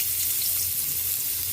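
Ginger hitting hot cooking oil for chicken tinola, a steady soft sizzle and crackle from the pan, even and close, with no talk.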